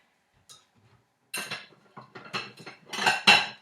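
Cutlery and a plate clink and clatter while a pasta dish of bruschetta chicken is being plated, starting with a few faint taps, then a series of sharp, close metallic clicks and scrapes growing busier and louder toward the end.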